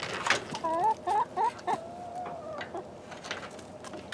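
Backyard chickens cluck and squawk in short bursts as they emerge from the coop's exit hole, loud and close, with a faint voice in the background.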